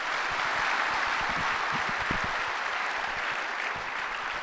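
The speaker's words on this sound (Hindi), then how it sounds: "तो एक बार दोबारा से तालियां लगा के दिखाइए इनके लिए।" Sustained audience applause fills the hall at a community event, dense steady clapping from many hands throughout at an even, moderately loud level.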